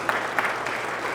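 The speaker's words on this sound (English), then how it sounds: "that deserves some applause" Brief applause from a pool hall audience at a 9-ball match in the Derby City Classic rises in short bursts over a steady crowd murmur, fairly close and moderate in level.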